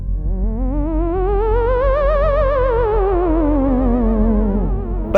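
A theremin glides through an eerie, wavering tone with heavy vibrato, rising slowly then sweeping back down in one continuous phantom-like swoop, heard alone and fairly loud.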